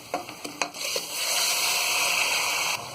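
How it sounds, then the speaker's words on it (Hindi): Steady sizzling of onions and marinated mutton frying in hot oil, with a few stirring clatters at the start, continuous and close. "प्याज को हल्का गोल्डन ब्राउन होने तक फ्राई कर लेंगे"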